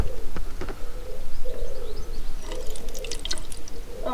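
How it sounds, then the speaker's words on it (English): Water running down the shower drain hole in a campervan, with short gurgles and drips close by, heard alone without talk. "You want it pouring into the hole or around the hole?"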